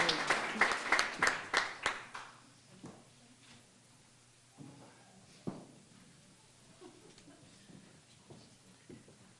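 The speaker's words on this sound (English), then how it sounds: "Another round of applause for our fantastic winners." An audience at a teaching excellence award gala claps for a winner in a short burst of applause that fades after about two seconds. Scattered claps, shuffles and quiet room murmur follow.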